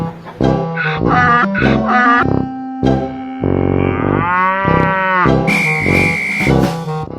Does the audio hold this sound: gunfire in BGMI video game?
no